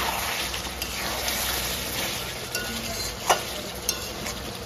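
Spiced meat for kosha mangsho simmers with water in a pan, giving a steady close bubbling sizzle with a few soft clinks.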